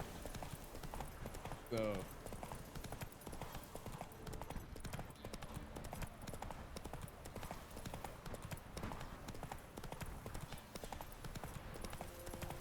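Roach the horse from The Witcher 3 gallops along in steady hoofbeat clip-clops, a short whinny rising near the start, all under ongoing game sound and someone talking throughout.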